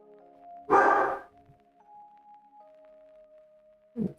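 A dog barks indoors during a 3D rigging work session: one loud, close burst near the start, then a brief second bark at the end, with faint steady tones in between.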